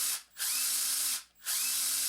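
A power drill bores into a plastic piece in a DIY workshop, whining loudly in two sustained runs separated by brief pauses as the motor stops and restarts.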